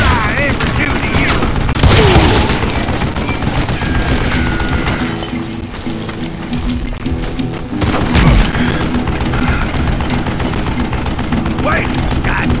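Gunfire in the Western shooter game Call of Juarez Gunslinger, dense volleys of shots and booms cracking loudly and almost nonstop through the scene, with a voice briefly heard amid the shooting.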